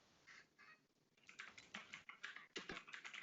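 Rapid clicking of computer keyboard keys, sparse at first then a dense, uneven burst of typing, fairly close.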